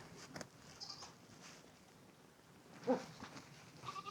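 Faint goat bleats sound from a distance from a pen on a Hunan mountaintop, a couple of short calls over quiet outdoor background.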